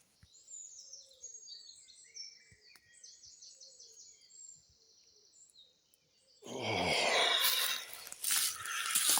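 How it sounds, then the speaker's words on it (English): A cuckoo calls faintly and distantly at early morning in woodland at a wild camp, mixed with brighter chirping birdsong, before a sudden loud rustling noise swamps the scene. "Little cuckoo's going."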